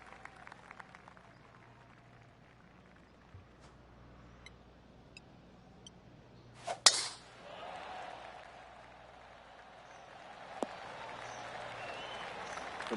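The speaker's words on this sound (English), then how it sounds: "That deserves a golf clap." Golf clap applause in PGA Tour 2K23, a short burst of crowd clapping that swells midway and then fades into a light, lingering patter.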